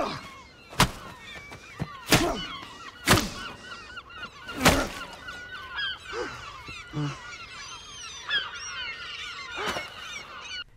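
Seabirds call in an eerie lighthouse film scene, giving repeated harsh honking cries over a faint background. Several sharp loud thuds strike at irregular intervals.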